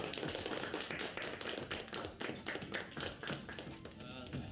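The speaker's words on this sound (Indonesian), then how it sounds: "Kalau kita tepuk tangan dulu dong." Brisk hand clapping from a small group watching an esports match reaction stream, a run of quick overlapping claps close to the microphone amid some background chatter.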